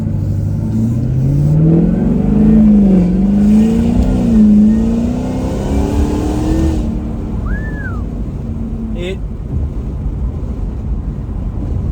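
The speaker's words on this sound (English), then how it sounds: "You hammer the gas and then you hear it." A roughly 1,100-wheel-horsepower Cadillac CTS-V3 engine revs up hard under full throttle, rising in pitch to a loud roar, then drops off to a lower rumble as the car moves on.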